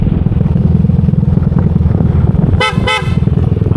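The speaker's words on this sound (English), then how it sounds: "you got to blow your horn. Let somebody know you're coming around the corner" Vehicle horn honking twice in quick succession before a corner on a road in the Philippines, sharp and close over a steady rumbling motorcycle engine.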